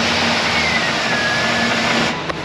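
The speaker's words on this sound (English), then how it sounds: "Begin engine starting sequence" A 2007 GMC Sierra's 5.3-litre V8 with a cut-off catalytic converter starts and settles into a loud, steady run close by, with a faint whine over the rough engine noise.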